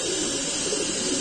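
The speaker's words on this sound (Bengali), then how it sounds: "এখানে আছে এক জোড়া দামাসিন কবুতর" A Damascene pigeon coos softly in a short, steady murmuring call, heard close and alone.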